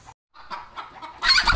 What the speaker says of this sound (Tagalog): may manok sa loob ng bahay.